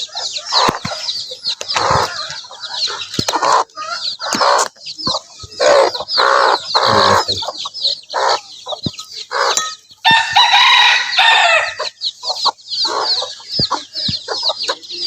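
Layer chicks and chickens on a farm fill the air with loud, busy peeping and clucking, broken by rooster crowing and occasional wing flaps, close and constant.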